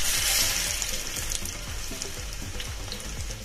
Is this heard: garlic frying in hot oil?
yes